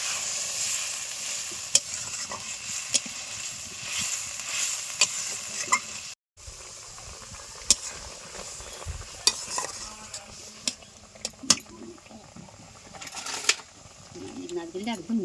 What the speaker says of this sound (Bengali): তারপরে আমরা যে নারকেলের দুধটা বের করে রেখেছিলাম, দুধটা অল্প অল্প করে দিব আর নাড়িয়ে নাড়িয়ে দেবো।